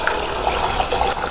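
Water gushes steadily into a pot of soaked tapioca pearls with a pinch of salt, a continuous close pouring rush that stops abruptly at the end.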